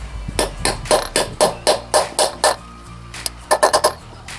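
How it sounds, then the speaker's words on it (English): A hammer taps a new wheel bearing into a Honda VF1000F motorcycle wheel: a steady run of about ten sharp metallic strikes, a brief pause, then a quick cluster of four more, close and loud. "seems like I need to give a few taps here from the top"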